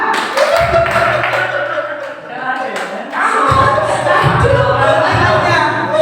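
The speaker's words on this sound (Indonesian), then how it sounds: "Satu kali tepuk pramuka" A group of school participants performs rhythmic scout-style clapping, patterned bursts of hand claps in sync with thumping beats, a pause in the middle, then the pattern resumes loudly alongside voices.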